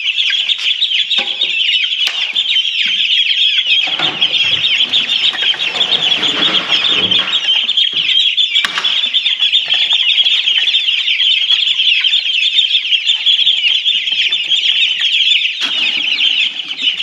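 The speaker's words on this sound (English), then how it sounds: "These big chickens need to come out here." Chickens cluck and call inside a coop, loud and close, with wing flapping and rustling bursts mixed through the steady chatter of the flock.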